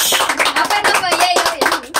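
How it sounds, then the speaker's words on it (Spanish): A group in a room claps for a candidate called to the front, giving a close, loud burst of uneven hand claps with voices mixed in. "¡Un aplauso!"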